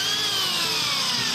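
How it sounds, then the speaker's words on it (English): A power drill bores into donated Christmas trees being prepared as fish habitat, a loud continuous whine holding steady throughout with a slowly falling pitch and no talk. "There's the drilling."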